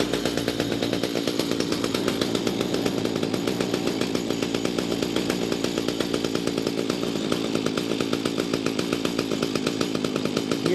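An Echo weed trimmer's small two-stroke engine idles steadily after its idle screw has been backed off, giving a continuous buzzy, rattling drone at moderate volume with no talking.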